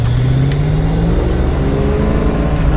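A cold 1989 Ford Mustang convertible engine idles while warming up, a loud, close, steady low hum with a slight waver in pitch, and no talking.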